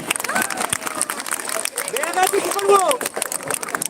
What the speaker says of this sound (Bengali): একটা জোরে হাততালি যাদের হাতে প্লেট নেই